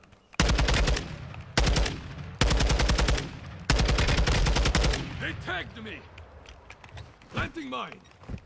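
Rapid automatic gunfire in a video game, several loud sustained bursts separated by short pauses, then scattered fainter shots while players talk over it.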